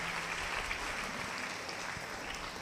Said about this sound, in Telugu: గట్టిగా చప్పట్లు కొట్టండి, గట్టిగా కొట్టాలి గట్టిగా